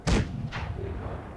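A tank cannon shell strikes its target in the mobile game World of Tanks Blitz: one sharp, heavy thud at the start, followed by a second softer impact and a fading rumble.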